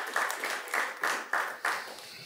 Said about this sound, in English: Will somebody give the Lord a hand clap of praise?